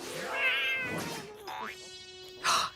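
A cartoon cat meows in a Hindi-dubbed kids' animated show, several short cries with a bouncy boing and a light thunk between them, and no talking.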